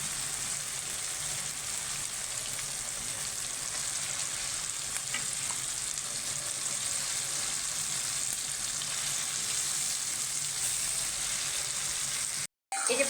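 Pieces of skin-on desi chicken fry in a pan of well-cooked spice masala, giving a steady, close sizzle that runs unbroken for several seconds before cutting out briefly near the end.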